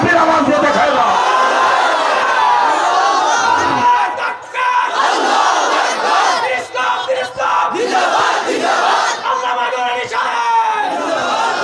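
A large crowd at a rally shouts the takbir, Allahu Akbar, in loud unison, repeated roars rising and falling in waves close at hand.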